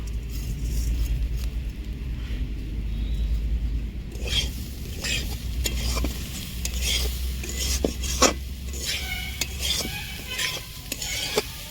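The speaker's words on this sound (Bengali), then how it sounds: "আমার নারকেল কুচিটা ভাজানো হয়ে গেছে" A pan scrapes and rasps as grated coconut is stirred and toasted, with a soft sizzle beneath and occasional metallic clinks of a utensil.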